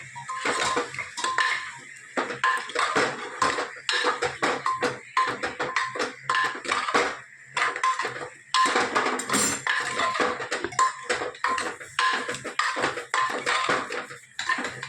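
Spices being stirred into food in a pot, a utensil scraping and clinking against the metal in steady, busy strokes with brief pauses, close and fairly loud, no voices.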